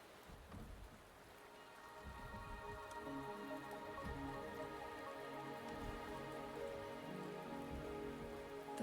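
Steady rain patters on surfaces in the Wuthering Waves video game, a soft continuous hiss with scattered drops and faint low rumbles underneath, quiet and even throughout.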